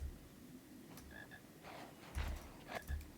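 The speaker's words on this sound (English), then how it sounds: "I hear a frog." A frog croaks in the PC game Harry Potter and the Philosopher's Stone, giving a few short, low, throaty croaks against faint ambient background, with a couple of soft higher chirps mixed in and no talking.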